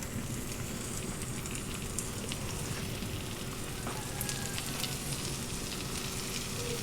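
Seasoned boar hog meat frying sets off a dense, steady sizzle with fine crackles and pops, moderately loud and continuous throughout with no voices.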